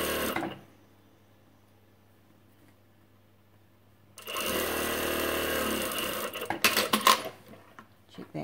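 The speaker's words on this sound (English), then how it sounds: "Back stitch to hold it and come to the other side." A sewing machine runs a back stitch on a twist top, a steady mechanical whir of about two seconds followed by a few sharp clicks and clatters.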